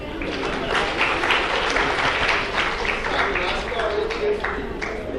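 Audience at a poetry recitation contest claps in a dense, lively burst that holds steady, with voices murmuring beneath.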